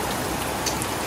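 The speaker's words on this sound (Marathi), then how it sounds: "खूपच पाऊस पडतोय." Heavy rain falling, a dense, even hiss of drops pattering steadily and close throughout.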